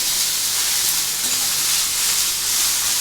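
Ridge gourd and potato frying in a pan, a steady, close sizzling hiss that holds even throughout with no talking.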